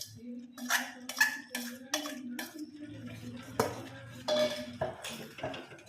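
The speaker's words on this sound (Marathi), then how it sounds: "आणि हलवून घेऊयात चांगलं" A metal spoon stirs a thickening coconut burfi mixture in a pan, with close clinks and scrapes against the pan in a loose rhythm and a low hum beneath.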